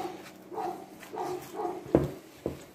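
A neighbour's dog barks outside in a series of muffled, moderately distant barks, ending with two sharper yaps, while baking shortbread indoors.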